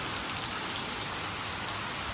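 Dense, even rain hiss fills the whole moment, a constant wash of falling drops with no voices.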